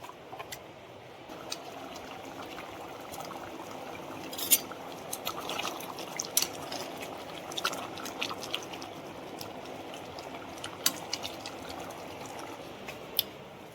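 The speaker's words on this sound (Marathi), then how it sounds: "आंबोशी धुते साफ पाण्याने" Dried mango pieces are washed in clean water, giving a steady wet trickling and sloshing with scattered small clicks and splashes, close and fairly quiet.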